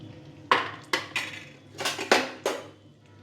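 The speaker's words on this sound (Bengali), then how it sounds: "কিছুটা করে আলু ভেজে নিচ্ছি।" Potatoes frying in a pan with salt and turmeric, heard as a quiet sizzle beneath a run of sharp utensil clinks and scrapes against the pan, about seven distinct knocks spaced irregularly.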